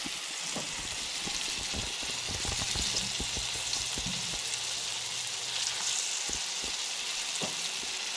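Green tomato slices fry in a cast iron skillet with a constant hissing sizzle and scattered pops and crackles, steady and close, with no voices.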